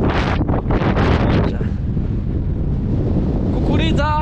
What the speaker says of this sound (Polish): Na pewno wieje i na pewno to denerwuje.